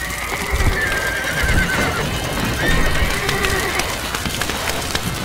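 A horse neighs repeatedly in the medieval strategy game Stronghold Crusader, its shrill whinnies standing out over steady clip-clopping hooves and game background noise.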